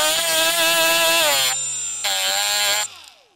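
A power tool whines in two loud bursts as it sands the surface of a cheap power tool battery pack, the motor note sagging and then cutting out, with a brief quiet gap between the runs.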